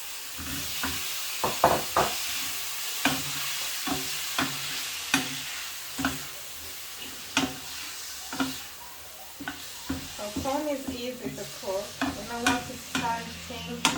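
Prawns with garlic and ginger paste, liquid Maggi and soy sauce sizzle in a vegetable stir fry, with a steady frying hiss broken by repeated sharp scrapes and knocks of a stirring utensil against the pan, close and clear.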